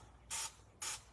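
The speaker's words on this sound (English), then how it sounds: "This stuff is what you spray on the dress?" Two short, crisp hissing bursts of product are sprayed onto a dress, each about a fifth of a second long with a brief pause between, close and fairly quiet.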